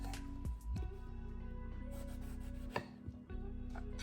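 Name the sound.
knife cutting eggplant on board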